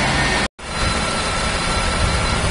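A car engine running while warming up after an engine flush during an oil change, a steady loud whooshing drone with a brief cut near the start.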